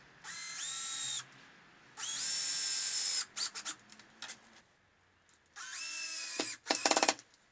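A power drill drives screws into sturdy plywood in three long whining bursts with rising pitch, separated by short clicks and rattles, loud and close with no talking.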